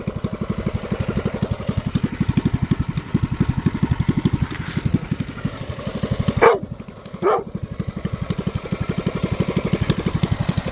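A mini bike engine idles close by with a rapid, even putter that pulses loudly and steadily, broken by two short sharp knocks midway.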